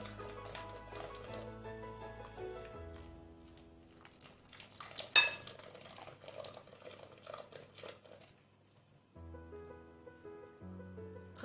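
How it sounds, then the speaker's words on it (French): Caramel cream mixture for a crème renversée is stirred gently with a utensil against a bowl, making soft, faint scraping and clinking beneath steady background music. "Mélangez délicatement pour ne pas incorporer de l'air."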